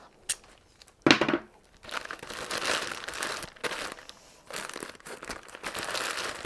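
Material being squished and crumpled into a ball shape, crinkling and crackling in close bursts with short pauses between them, fairly quiet and with no talking.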